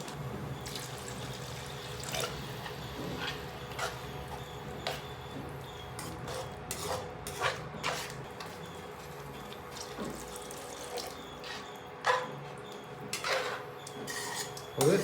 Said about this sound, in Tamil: அப்புறம் கொஞ்சமாக தண்ணி சேர்த்துக்குவோம்